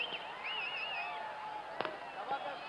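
A single sharp firecracker bang pops at an election-campaign political rally, heard under someone speaking over a loudspeaker.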